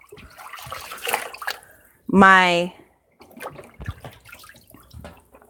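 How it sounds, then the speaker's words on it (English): Tap water gushes briefly into a kitchen rinse tub as a dish rag is rinsed out, a loud splash lasting under a second between stretches of talking. "right now, I'm rinsing out my rag"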